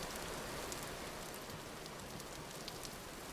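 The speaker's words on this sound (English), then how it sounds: "The rain is loud." Steady rain with a fine, continuous hiss and scattered droplet ticks, even and unbroken throughout at low level, with no voices.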